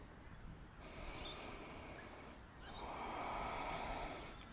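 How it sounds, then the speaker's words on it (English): Slow, deep yoga breaths during a hip-focused flow: two long airy inhale-exhale cycles, close and steady, with a brief pause between them and no talking. "Deep breath in."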